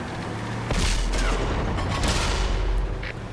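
A heavy tank destroyer cannon fires in World of Tanks, one sharp loud blast followed by a deep rumbling tail and battle noise.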